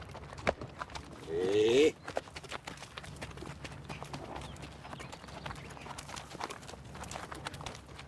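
A horse walks with steady clip-clopping hooves, moderately close and fairly quiet, with a brief whinny-like sound early on and a person speaking briefly.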